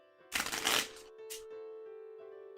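A deck of game cards is shuffled at a tabletop board game session, giving a brief riffling burst followed by a quick second flutter, close by, over a steady background hum with no speech.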